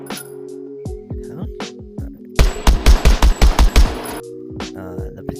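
Pistol gunshots in a VR shooting video game: several sharp separate shots, then a rapid burst of about ten loud shots in quick succession, followed by a few more scattered shots and clinks.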